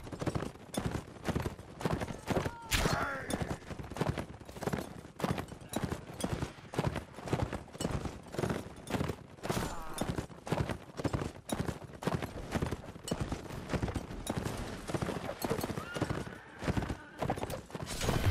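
Horse hooves clip-clop steadily and fairly loud through a 19th-century-style online line battle game, with a quick whinny partway in and faint game ambience and voices underneath.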